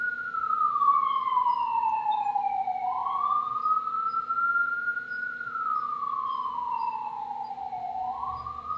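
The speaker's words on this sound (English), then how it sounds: "We got an ambulance going by." An ambulance siren wails past, slow rising and falling sweeps held steady and fairly loud over a faint low hum of road noise, with no talking.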